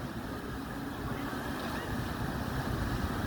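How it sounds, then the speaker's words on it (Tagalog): Waves surge and break against a seaside cliff at sunset, a steady, loud broadband roar with wind over the open water and no talk. "Alon na sumisipa doon sa cliff."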